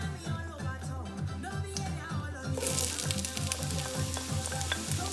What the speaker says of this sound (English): I'm gonna go ahead and saute my onion and garlic